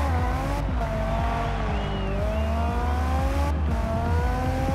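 A Ferrari 458 V8 engine in Forza Horizon 2 revs loud and high toward 9,000 RPM, with rising and falling pitch through gear changes and tire squeal, a continuous racing roar.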